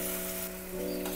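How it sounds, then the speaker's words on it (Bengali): Banana flower frying with potatoes and spices in a pan, a soft, steady sizzle with light stirring throughout the short moment, no talking. "এবারে মোচাটাও এই আলু আর মশলার সাথে ভালো করে একটু কষে নেব।"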